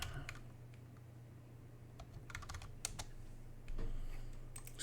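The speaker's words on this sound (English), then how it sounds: "I'm gonna type a command" Computer keyboard typing of a command in a Linux terminal, with bursts of quick clicking keystrokes over a steady low hum, the keys close and moderately quiet.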